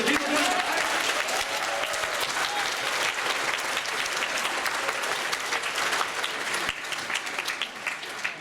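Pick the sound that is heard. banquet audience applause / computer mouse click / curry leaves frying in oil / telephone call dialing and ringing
banquet audience applause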